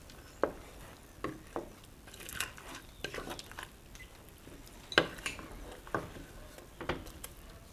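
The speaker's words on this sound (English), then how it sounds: "And my bacon. So stir this up." A spoon stirring bacon cheeseburger soup in a pot: faint, scattered scrapes and clinks against the metal pot, irregular and quiet, with a soft background of simmering.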